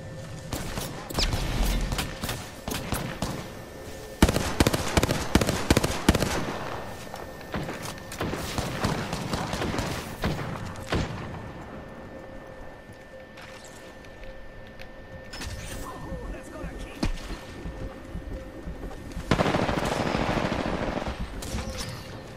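Sniper and other gunfire in the video game Apex Legends cracks out in loud clustered bursts of rapid shots, with quieter gaps and scattered clicks between them.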